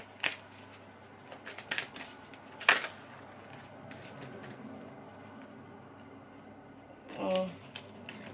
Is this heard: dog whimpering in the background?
no